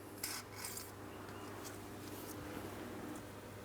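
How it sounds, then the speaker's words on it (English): A wire brush scrubs heavy rust off the rear suspension of a 2003-2007 Cadillac CTS near the sway bar link, giving steady close rasping strokes with a few sharper bursts early on. "since I do have a considerable amount of rust here, I'm going to be using a wire brush"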